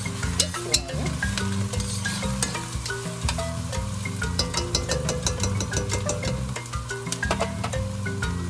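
Food sautéing in a pan on a stovetop, a steady sizzle and stirring sounds running throughout beneath prominent tonal background music.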